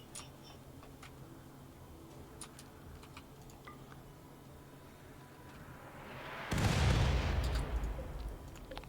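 Mortars fire a volley in a video game: faint ticking clicks lead up to a sudden loud, booming rumble that swells and then fades over a few seconds.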